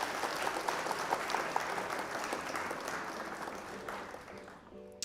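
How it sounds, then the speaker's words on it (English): A recorded crowd applause effect plays during a live game stream, continuous even clapping for about four seconds before tapering off. "Round of applause for you"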